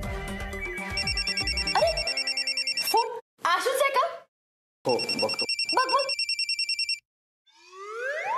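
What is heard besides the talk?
mobile phone ringing with an incoming call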